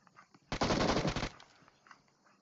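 Automatic gunfire in PUBG Mobile on the Erangel map: one loud, rapid burst of shots lasting under a second, close by, then fading into quiet ambient game noise.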